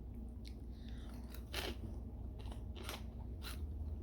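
Crunchy bites and chewing of burnt, crisp food fried in olive oil, several sharp crackling crunches spaced across the moment, close to the mic with steady low background hum.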